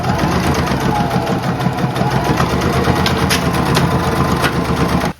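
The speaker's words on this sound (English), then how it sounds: "And now we can just do a straight stitch over this line here." A sewing machine runs a straight stitch along a dart line on thrifted clothing, a continuous rapid mechanical whir and chatter, loud and close, steady for about five seconds before stopping abruptly.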